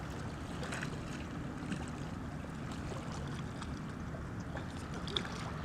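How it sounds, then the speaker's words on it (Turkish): A steady wind blows against the microphone outdoors while fishing for horse mackerel, a continuous low rushing noise with faint splashes and small knocks, no voices. "Rüzgar hala var burada."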